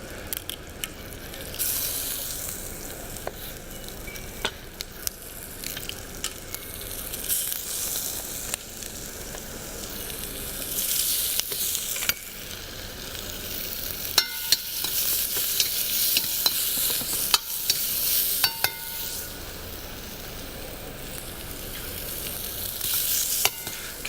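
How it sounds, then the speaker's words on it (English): Prawns with their heads on stir-fry in a hot wok, a steady loud sizzle with frequent scraping and clinking of a utensil against the metal as the food is tossed. No one speaks. "I'm just going to fry the prawns out first to get a bit of colour so that the garlic won't burn"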